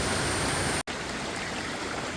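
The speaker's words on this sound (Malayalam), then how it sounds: "ഇത് ആദ്യ കാലങ്ങളിൽ വെള്ളം ഒഴുകി പോ പോയത് കൊണ്ടുണ്ടായ ചെറിയ നീർച്ചാലാണ് പാറകൾക്കിടയിൽ നിന്ന്" A small stream at Ayyanchola runs between rocks in a channel worn by water, giving a steady, close rushing wash that continues alone, broken only by a brief dropout.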